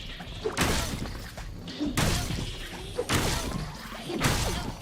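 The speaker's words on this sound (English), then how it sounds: "If you hit the door, there's some sounds apparently they added" Repeated heavy thuds and crashes as a door is struck in Spyro Reignited, four hits spaced roughly a second apart, each a broad impact with rattling tail, with faint voices underneath.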